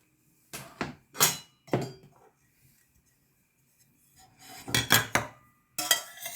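Green curry paste is scraped out of a pan with a utensil in bursts of metallic scraping and clinks, followed by a pause and then another cluster of scrapes.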